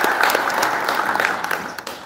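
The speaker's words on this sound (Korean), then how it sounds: "여러분 다시 한번 박수를 부탁드립니다." Applause from a large audience at a senior citizens' association president's inauguration ceremony, a dense, steady wash of clapping that thins slightly toward the end.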